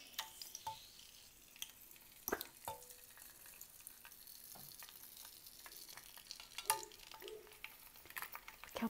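Rainbow shrimp chips frying in hot oil, a steady bubbling sizzle broken by sharp crackling pops as the chips puff up, close and fairly quiet, with no voices.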